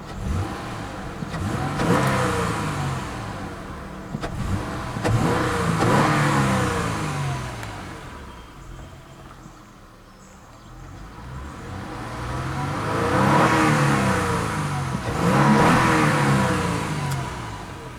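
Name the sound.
2000 Acura TL car engine revving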